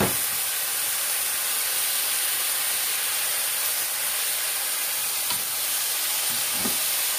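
Tofu poured into a hot pan while cooking pancit canton, giving a loud, steady sizzle and hiss that carries on for several seconds, with a few faint stirring clinks near the end and no talking.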